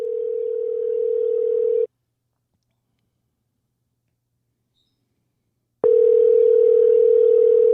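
A steady telephone dial tone hums on a call line, stops for about four seconds of silence, then returns just as loud, close and alone.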